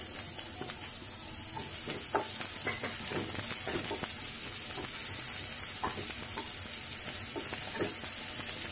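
Parwal seeds and onion frying in hot oil, a steady close sizzle with scattered stirring scrapes and small crackles throughout, no voices.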